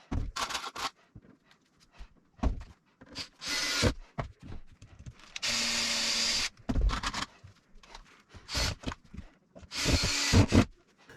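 A power drill drives screws through MDF boards fixed to a workshop wall, in repeated short whirring bursts with a few longer runs, close and fairly loud, separated by quiet handling and rubbing noises.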